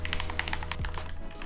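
Mechanical keyboard at a product designer's home office desk: a quick run of light clicky keystrokes taps out steadily and close by, with a faint low hum underneath.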